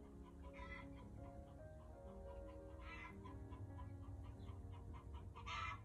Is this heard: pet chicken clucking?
yes